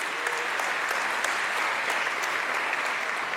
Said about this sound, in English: May we all give this province of KwaZulu Natal a big round of applause for this achievement.